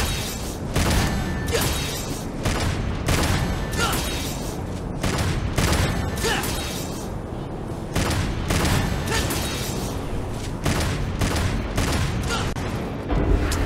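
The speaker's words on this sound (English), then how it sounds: "It's gonna be a lot of shooting." Rapid gunfire in the action video game Devil May Cry 5, dense bursts of shots and impacts in repeated volleys with brief gaps between them, loud and continuous over game effects.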